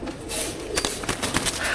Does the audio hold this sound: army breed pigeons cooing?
yes